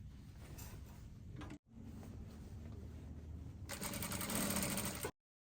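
A sewing machine runs steadily as it stitches the side seams of a skirt, with a brief pause before the motor resumes and speeds up louder near the end.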